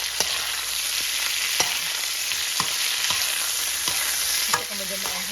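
Chicken feet fry in a pan for spicy adobo, giving a steady loud sizzle throughout, broken by scattered clicks and scrapes as they are stirred, with a final clatter near the end.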